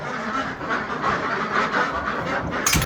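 Ducks settled at the roost for the night quack in a continuous, nasal chorus up close, with a sharp knock near the end.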